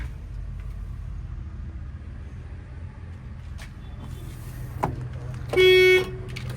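Low traffic rumble runs throughout, then the horn of a 2019 Ashok Leyland Dost LS BS4 light truck blares loudly near the end, sustained, close and clear for about a second.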